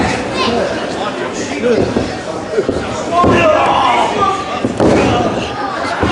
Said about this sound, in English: Slam by Aries, right in the center of the ring